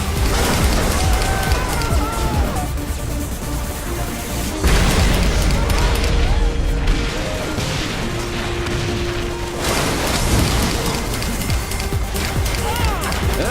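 Saints Row: The Third gameplay fills with loud booming explosions and crashing chaos, dense and continuous, with a voice talking over the din.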